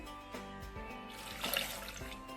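Water poured into a cooking pot while making lunch in a home kitchen, a steady splashing pour under a faucet-like rush that swells louder partway through, with no talk.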